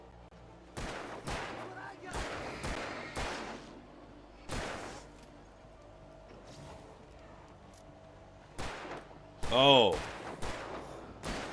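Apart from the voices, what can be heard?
gunshots firing in a video game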